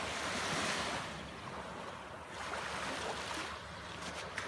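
Sea waves wash onto a beach at dawn in Crotone, a steady broadband surf rush swelling and easing, with some wind noise on the microphone and no voices.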